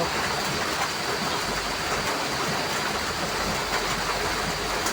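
A downpour of heavy rain roars continuously, a thick unbroken wash of sound close by with no voices.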